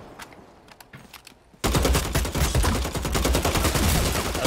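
Gunfire rings out in the video game Bloodhunt. A few scattered sharp shots come first, then a sudden dense burst of rapid automatic fire keeps going loud and close to the end.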